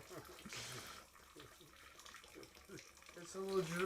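Tap water runs steadily from a faucet during home water heater maintenance, a continuous hiss and splash close by with people talking over it.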